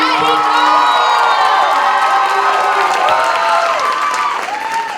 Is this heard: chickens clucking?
no